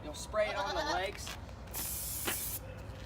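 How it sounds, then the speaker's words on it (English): A can of spray-on powder hisses in one strong, sustained burst of about a second, aimed at a market goat's legs during show fitting, with a goat bleating briefly beforehand and some rattling and handling noise up close. "So powder it's a powder packed into a can, and what you do is you'll spray it on the legs"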